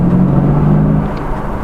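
A Mercedes CLK with its windows down pulls away in gear, the engine drone steady and close, holding a low even hum for under two seconds with no voices.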